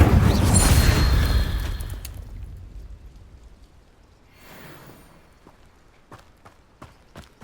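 An Incendio fire spell is cast in Hogwarts Legacy: a loud, rushing burst of flame that fades over about two seconds, followed by quieter scattered crackles and a few sharp pops.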